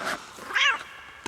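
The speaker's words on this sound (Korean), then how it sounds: "어디 새끼 고양이가 울고 있네요" A kitten's meow, one clear rising-and-falling cry in the middle of a quiet indoor space, with a short faint squeak just before it and a small knock near the end.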